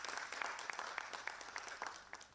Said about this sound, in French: Elle est réconfortée par les acclamations de l'assistance.